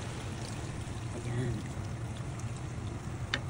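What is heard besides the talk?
pouring water into pot of pork dinuguan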